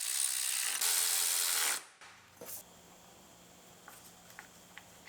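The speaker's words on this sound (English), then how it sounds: "run all the bolts in for the coils and the upper wiring harness" A power tool drives bolts for the ignition coils and upper wiring harness on a Kia Sorento engine: one loud whirring burst of almost two seconds, then quiet with a few faint clicks and taps.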